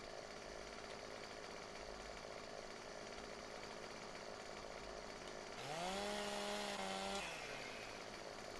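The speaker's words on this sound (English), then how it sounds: "sometimes this chainsaw just doesn't give you a cut place" A chainsaw cuts a tree in the video game Farming Simulator 17. A steady mechanical drone runs throughout, then the engine revs up sharply for about a second and a half before dropping away.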